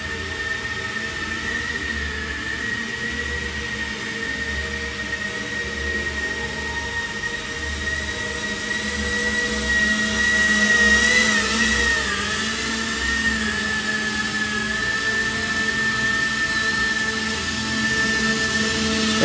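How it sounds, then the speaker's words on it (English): A V-22 Osprey RC model VTOL aircraft hovers in place, its motors and rotors holding a steady, loud whine and hum with a faint high tone that swells slightly midway. "it's not flying forward, it's just hovering"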